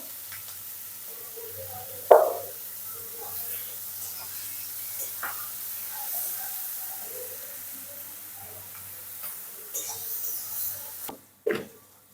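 Chopped onion and green chilli fry in mustard oil in a pan, giving a soft, steady sizzle with a few sharp clatters from stirring.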